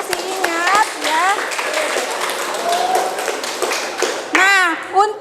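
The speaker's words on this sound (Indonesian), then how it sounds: "Berikan tepuk tangan yang masih ingat ya." A classroom of students claps briefly during a lesson, with scattered sharp hand claps and taps mixed with children's voices talking and chattering close by.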